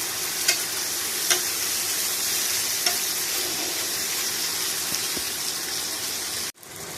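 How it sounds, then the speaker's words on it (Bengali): Spice paste sautéed in a pan for small fish chorchori gives a continuous close sizzle with a few sharp stirring taps, ending in a sudden brief drop. "মশলাটা 2-3 মিনিট একটু কষিয়ে নেব।"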